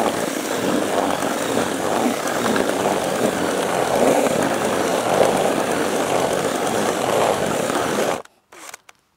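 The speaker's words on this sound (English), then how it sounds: "Lazy man's way today with a drill." A power drill with a mixer paddle stirs fishing groundbait and water at a lake, a loud, continuous whirring churn lasting about eight seconds before it cuts off abruptly.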